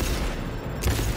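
Turret gunfire in the video game Cyberpunk 2077, a steady rapid rattle of shots under a dense noisy mix, with one louder burst near the end.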